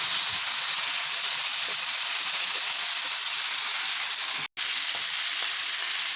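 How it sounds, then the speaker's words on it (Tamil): Potato pieces for an Onam sadya mezhukkupuratti dry roast on a hot iron dosa pan, giving a steady, close, bright sizzling hiss that breaks off for an instant before carrying on. "இப்போ இந்த தோசைக்கல் நல்லா சூடாயிருச்சு இதில் வந்து இந்த கிழங்கை போட்டு ட்ரை ரோஸ்ட் பண்ணணும்"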